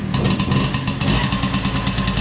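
A Tomos moped engine, kick-started and running, buzzing steadily with a rapid rhythmic putter close up and loud throughout, no voices.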